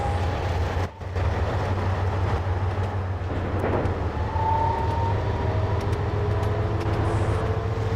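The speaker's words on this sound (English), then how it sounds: "I love hearing the DB218 flare up, combined with the brilliant and beautiful sounding howling of the Shinkansen Zeros." DB218 and Shinkansen Zero trains running in a Customia railroad game, heard as a steady, loud rumbling drone with rising tonal howls and faint rail clatter.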